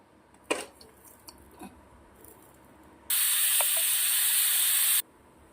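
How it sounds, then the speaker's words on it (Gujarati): A pressure cooker of dal lets out one steady, loud hissing whistle lasting about two seconds, close by, after a few faint kitchen clinks. "એક સીટી મારી લઈશ દાળને"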